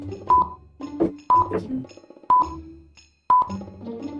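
A telephone keypad sounds a series of short dialing tones, four distinct beeps spaced roughly a second apart, with a low voice and other faint sounds in between.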